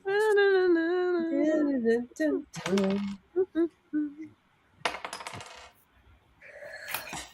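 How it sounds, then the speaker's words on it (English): Dice roll and tumble on a hard surface in a few short clattering bursts, after a voice hums or sings a brief rising tune. "I'm gonna roll the dice again."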